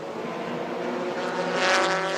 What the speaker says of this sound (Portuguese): Caio Lacerda acelerando pela última vez pela curva do Laranjinha.